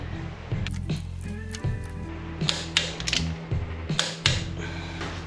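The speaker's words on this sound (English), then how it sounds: "I torque it to the correct torque settings" A torque wrench tightens spark plugs on a Porsche 911 to 30 newton metres, giving close mechanical ratcheting clicks and creaks in irregular bursts.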